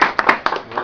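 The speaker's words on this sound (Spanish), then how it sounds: "Un aplauso, por favor." A small group claps briefly after a lecture in a university education seminar, a handful of separate, close hand claps in an uneven, sparse pattern.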